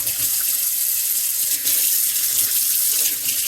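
Water runs steadily from an old Moen bathroom faucet with a newly replaced cartridge, a close, constant hissing splash with no talking over it.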